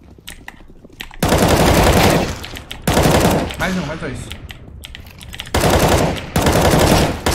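Bursts of rapid automatic gunfire in a video game, loud and repeated in several long volleys, with a voice talking briefly between them.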